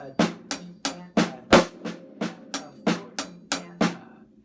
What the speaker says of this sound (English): main beat I'm going to use on this is a paradiddle sticking pattern